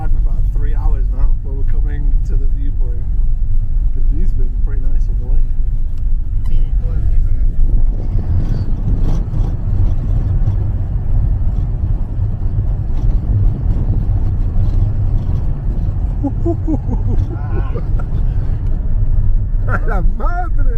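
A small bus driving on a mountain road in Mexico, a continuous low engine rumble and road noise heard from inside, with people talking over it.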